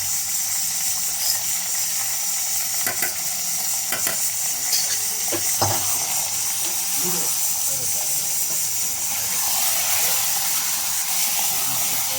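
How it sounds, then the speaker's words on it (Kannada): Onions fry in a pan with a steady, close, continuous sizzle across the whole stretch, broken by occasional scraping and clinking stirs around the middle; no voice is clear over the frying. "ಈರುಳ್ಳಿ ಚೆನ್ನಾಗಿ ಫ್ರೈ ಆಗ್ತಿದೆ"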